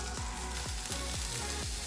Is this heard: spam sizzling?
yes